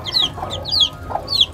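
High, bright peeping calls from young chicks of a 5K Sweater gamefowl line, three short chirp bursts spaced evenly over low background rumble, fairly near.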